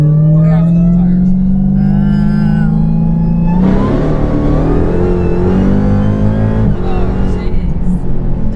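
A built 2018 Dodge Demon of about 1000 hp on race tires accelerates hard with the tires spinning. The loud engine drone climbs in pitch, drops at a gear change, then surges again, heard from inside the car.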